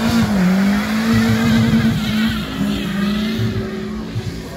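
A loud supercar drives past at CarFest North 2019, its engine roaring and revving with a low drone and rising pitch. Tire noise runs under the engine note, and the sound stays close and continuous throughout.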